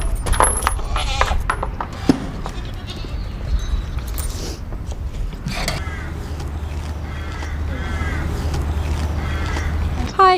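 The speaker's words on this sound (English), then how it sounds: "Ludwig is this big white goat. He's a 5-year-old Saanen cross." A big white five-year-old Saanen cross goat bleats at an animal welfare centre in East Sussex, with several short calls rising over outdoor background noise, plus scattered creaks and clatter.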